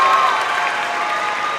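Audience applause for a performer named Zelly at the Culture Shock 2017 show, a steady, dense clapping of a sizable crowd that stays loud and even throughout without a break.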